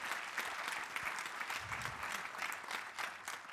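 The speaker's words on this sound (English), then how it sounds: "you can applaud if you want" Audience applause at a cinematography conference, a steady wash of many hands clapping that holds at an even level for several seconds with no voices on top.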